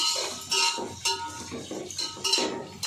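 Green chillies and chopped onions being stirred in a pan with a metal spoon for a chicken fry biryani, giving a series of close scraping clinks against the pan at an irregular rhythm.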